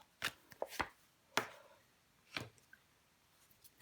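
A tarot card is laid down over another card, giving a few soft, sharp taps and slaps close by in a quiet room, spaced irregularly over a few seconds.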